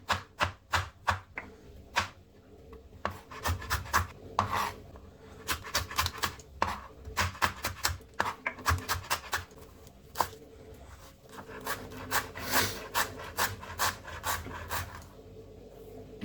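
A knife chops tomato and coriander leaves on a board for an egg curry, a steady run of sharp close taps in fast bursts and short pauses, fairly loud, with no voices.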